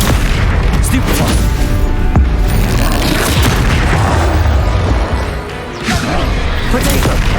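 Booming Confringo explosive spells in Hogwarts Legacy amid a loud, dense combat clash, repeated heavy blasts and impacts piling up, with a voice shouting spell names throughout.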